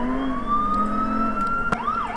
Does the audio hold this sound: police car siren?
yes